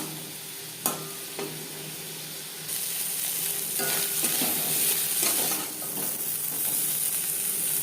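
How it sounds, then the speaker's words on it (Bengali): Prawns sizzle steadily in hot oil in a pan after being seasoned with salt and turmeric, with a brief stirring clatter near the start and the frying growing louder and fuller partway through, no voices. "লবণ হলুদ দিয়ে মাছ ভেজে নেব"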